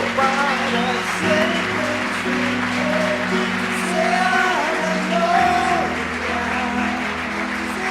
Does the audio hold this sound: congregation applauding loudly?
yes